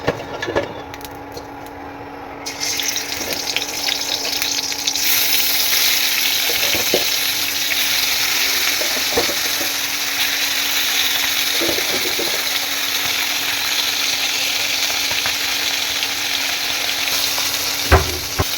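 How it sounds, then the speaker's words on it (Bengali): Fish fries in hot oil in a wok, a steady loud sizzle that starts a few seconds in and holds throughout, with occasional clatters and stirring noises and no speech. "কড়াইয়ে তেল দিয়ে দিলাম মাছ ভাজার জন্যে"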